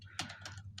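Quick keystrokes on a computer keyboard while typing code, as a few faint, close clicks in under a second over a low hum.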